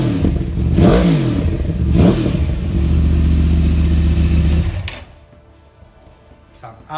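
A 2014 Yamaha R1 sport bike fitted with Akrapovic exhausts revs hard twice, then holds a loud, deep roar before dropping back to a quiet idle, close up.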